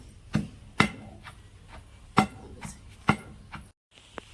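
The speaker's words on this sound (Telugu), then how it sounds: "ఇది మెత్తగా తొక్కుతున్నామండి." Raw ivy gourd, green chillies and tamarind are pounded into chutney in a mortar, giving a handful of sharp, irregular thuds and knocks, close and unaccompanied by speech.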